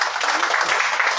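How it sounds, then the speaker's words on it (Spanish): Loud, dense applause from the audience at a formal Garifuna museum inauguration ceremony, a steady wash of many hands clapping with no break. "Un fuerte aplauso para este joven."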